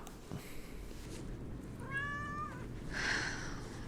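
A cat meows once clearly near the middle, a drawn-out tonal cry with a sliding pitch, followed by a fainter second call over steady background noise.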